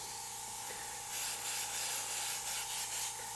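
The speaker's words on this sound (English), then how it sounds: "I'm going to spray some texture and grit out of it" An airbrush sprays opaque paint in short bursts to lay down texture and grit, giving a soft, steady airy hiss that swells near the end, close and quiet with no talk.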